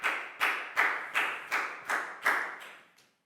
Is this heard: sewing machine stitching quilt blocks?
no